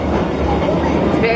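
Inside a moving passenger train to Hue, Vietnam, at night, a steady, loud rumble of wheels and carriage fills the cabin, with faint voices underneath.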